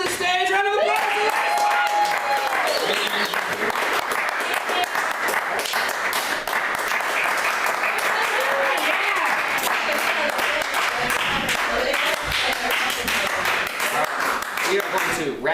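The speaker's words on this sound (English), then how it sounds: "Round of applause!" Audience at a live "Hooked on Polkas" show in San Francisco applauding loudly and continuously for a long stretch, with a few voices and whoops mixed into the dense clapping.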